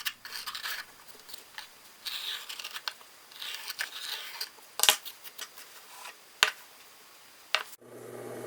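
A compass with a sharpened nail in place of its lead scratches through the lacquer on brass, giving faint, close scraping strokes with a few sharp louder clicks in between.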